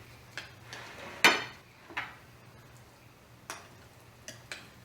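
Ingredients for spicy avocado toast with chili get mixed together, with sparse light taps and clinks of a utensil against a dish at an irregular pace over a quiet hum.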